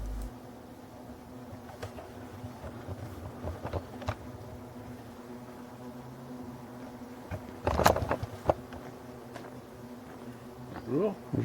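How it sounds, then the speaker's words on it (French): Continuous buzzing hum of Asian hornets and wild honeybees around a colony in a Breton marsh, steady insect drone with occasional closer fly-bys and scattered clicks, a voice briefly audible in the background. "Des frelons asiatiques et des abeilles."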